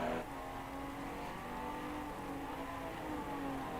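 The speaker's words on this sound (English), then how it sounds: "You can hear Colin using the gears to help slow that car down to get it rotated." A vintage GTA race car at Watkins Glen in Project Cars 2 downshifts while braking, its engine a steady whine that drops in pitch, with the sustained drone filling the whole stretch.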